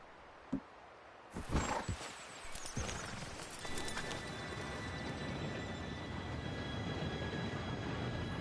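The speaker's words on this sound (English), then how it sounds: "Train should be here any minute now." A train arrives in the Red Dead Redemption 2 video game, first a few sharp knocks and clanks, then a building, steady rumble and rolling clatter with a faint high whistle-like tone, fairly quiet overall.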